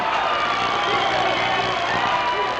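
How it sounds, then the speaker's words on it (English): A wrestling arena crowd stands and applauds for the Bruiser, a dense, continuous roar of clapping and cheering that fills the space evenly and loudly without pauses. "And his crowd standing and applauding for the Bruiser."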